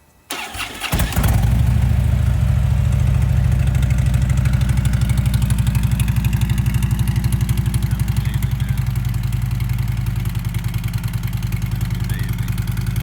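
A 2010 Harley-Davidson Street Glide engine starts with a brief crank, then settles into a loud, deep, lumpy idle close by, throbbing steadily and easing slightly toward the end.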